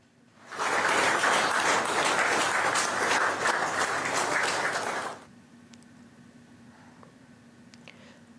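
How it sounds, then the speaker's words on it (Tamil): Office officials and staff break into warm applause welcoming Prime Minister Narendra Modi, a loud, even burst of clapping lasting about four and a half seconds before cutting off to quiet room tone. "அலுவலக அதிகாரிகள் மற்றும் ஊழியர்கள் கரகோஷம் எழுப்பி பிரதமர் நரேந்திர மோடியை உற்சாகத்துடன் வரவேற்றனர்"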